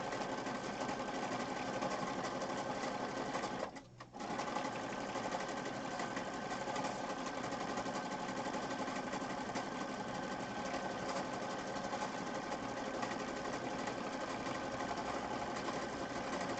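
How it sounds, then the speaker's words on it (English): A sewing machine with an automatic cutter stitches steadily across a paper page in mixed-media work, a continuous close mechanical whir with one brief pause near four seconds, then running on evenly. "So I just went ahead and sewed all the way across."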